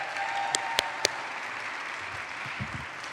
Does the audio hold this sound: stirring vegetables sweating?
no